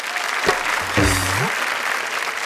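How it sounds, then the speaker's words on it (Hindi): Audience applause in a lively Hindi comedy and poetry gathering, a steady wash of clapping that holds through the whole stretch, with a brief tonal voice sliding under it near the middle. "एक बार जोरदार तालियां"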